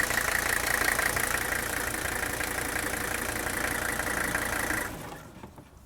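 An old Mercedes diesel engine idles with a steady rough clatter, then shuts off abruptly near the end, leaving a faint fading rumble and quiet.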